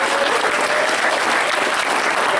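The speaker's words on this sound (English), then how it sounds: "huge round of applause to you for that" An audience at the Trotcon 2023 closing ceremony in Columbus, Ohio claps in a dense, steady round of applause that stays loud throughout with no pauses.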